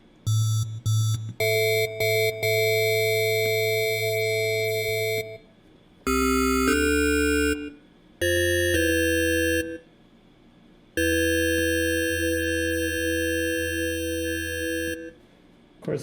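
Sustained synthesizer tones rich in stacked harmonics give a bright, bell-like ring, played as several held notes separated by short gaps, loud and clean with no talking.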